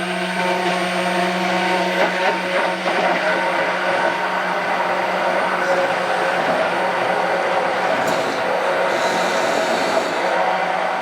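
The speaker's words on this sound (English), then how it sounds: "I'm going to use my immersion blender." An immersion blender whirs steadily through eggs in a pitcher, a loud continuous motor drone with a slight pitch shift near the end.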